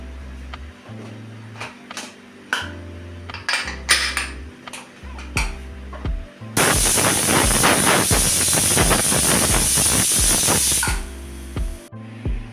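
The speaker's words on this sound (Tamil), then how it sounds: "குக்கர் விசில் வந்து ப்ரெஷர்லாம் ரிலீஸ் ஆகிடுச்சு" Pressure cooker on a kitchen stove releasing steam while cooking vada curry, a loud sustained hissing rush lasting about four seconds that abruptly stops, following intermittent low kitchen noises.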